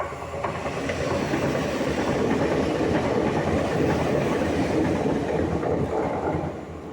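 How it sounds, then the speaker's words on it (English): A train rumbles steadily past at close range near Sant Cugat, heard from a balcony, a continuous broad roar with faint rhythmic clatter, holding level for several seconds before easing slightly. "That's the train past San Cugat."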